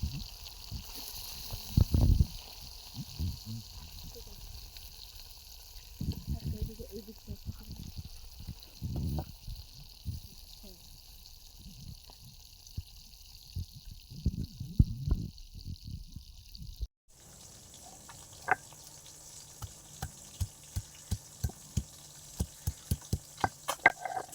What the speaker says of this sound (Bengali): এই দেখো তেল গরম হয়ে গেছে মাছ দেওয়া হচ্ছে